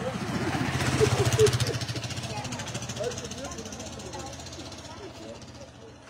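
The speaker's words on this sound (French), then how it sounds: "Il y a une moto qui arrive, hein?" A motorcycle engine passes with a pulsing mechanical rattle that swells to a peak early on and then fades as it moves away. People talk throughout.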